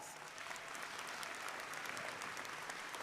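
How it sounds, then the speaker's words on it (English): A large audience at a spring college commencement ceremony applauds graduates' families, a continuous, even roar of many hands clapping, heard from a distance and fairly faint, with no talk over it. "Let's give them applause"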